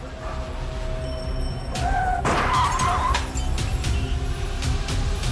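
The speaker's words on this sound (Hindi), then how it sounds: "बाइक एक लग्जरी गाड़ी से टकरा गई थी।" Staged radio-drama crash of a motorbike slamming into a luxury car: a sudden loud impact with a crunching burst, then scattered clattering debris over a steady low traffic rumble, no talking.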